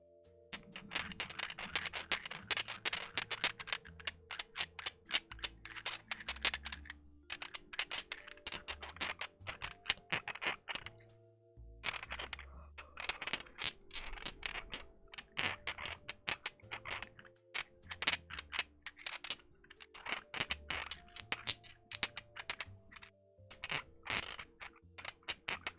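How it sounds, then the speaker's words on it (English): Quiet, close typing on a Logitech computer keyboard, with rapid key clicks coming in uneven bursts and short pauses throughout. "See, this other keyboard is also Logitech."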